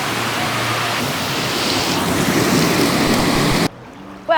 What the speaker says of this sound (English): So yeah, there's a waterfall.